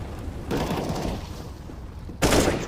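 Rapid gunshots in a CS:GO match, a dense burst of shots through most of the moment and a louder blast near the end, crisp and close.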